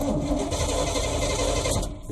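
A 1982 Chevy C30 square-body ramp truck is turned over by its starter on a cold start after sitting for months, giving a steady, loud, fast mechanical churn close by that eases off at the end.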